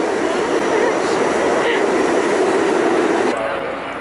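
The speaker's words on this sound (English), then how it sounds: "And we're on a subway." A New York subway train rides along with a loud, continuous rumbling roar close around the listener. A faint high squeal cuts in partway through, and the noise eases slightly near the end.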